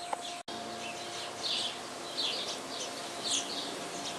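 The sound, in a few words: blackbird singing in backyard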